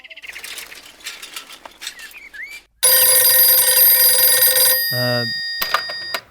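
A telephone rings with a loud, sustained electronic trill that cuts in abruptly after a stretch of quieter sounds, then gives way to a short warbling burst before a final ring.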